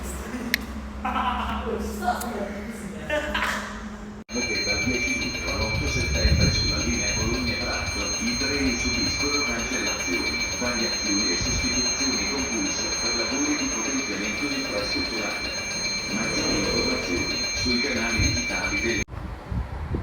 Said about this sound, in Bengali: অবশেষে ট্রেনটা আসলো